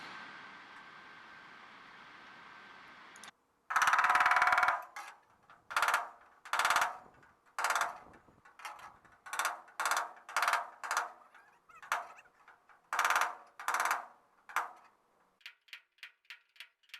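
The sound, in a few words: hammer tapping and coaxing a car trunk panel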